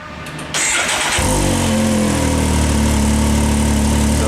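A Can-Am X3 Evo side-by-side with stock exhaust and catless downpipe cranks briefly, then its engine catches and settles into a loud, steady rumbling idle close by.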